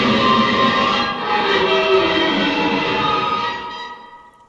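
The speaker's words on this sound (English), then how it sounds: "Violent static and machine sound fills the air." Reel-to-reel tape playing in the Disco Elysium video game: a harsh wash of violent static mixed with droning machine hum, loud and continuous, fading slightly toward the end.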